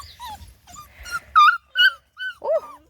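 A 4.5-week-old Bluetick coonhound puppy whimpering, a series of short high thin whines and squeaks, close and fairly soft, with a few yips toward the end.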